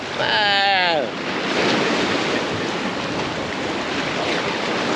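Surf rolls steadily onto a rocky beach on Zante, Greece, a broad continuous wash of waves with strong wind buffeting the microphone; a brief bird-like chirp sounds at the very start.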